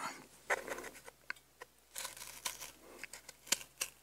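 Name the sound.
scissors cutting sticker paper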